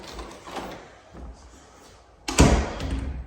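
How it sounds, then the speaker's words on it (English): An interior door in a house is opened and closed, giving a few soft thumps followed by one louder, sharper knock near the end, close by with no talking. "Let's check this door."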